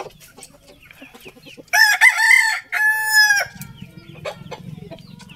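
Chickens near a nest of hen's eggs, with a loud close crow or drawn-out squawking call in the middle and softer clucks and rustling around it.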